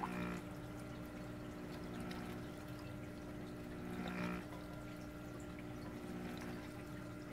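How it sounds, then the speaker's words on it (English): Water from a PVC drop pipe splashes into a DIY aquaponics tank, heard as a steady trickling flow with two louder splashing bursts a few seconds apart, close by and with no voices. "Now I'm getting a splash,"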